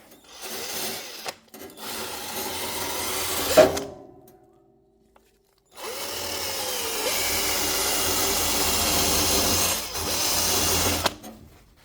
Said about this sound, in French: Le petit coup à la meuleuse, c'est juste pour donner un effet de propreté.